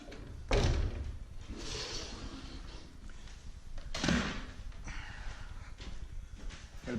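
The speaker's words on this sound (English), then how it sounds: "Okay, so I can open the door." Bi-fold door being opened during trim work, giving a couple of distinct knocks and thuds as the panels fold and meet, with quieter rustling and handling noise between them.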